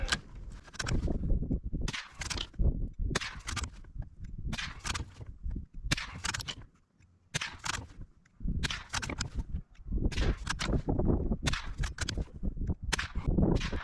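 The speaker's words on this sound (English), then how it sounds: "now 10 rounds of the Aguila through the Ruger American" Ten sharp .22 LR reports from Aguila bulk ammunition fired through a Ruger American rifle, spaced in a steady irregular rhythm over about fourteen seconds, loud and close with brief quiet gaps between shots and no talk.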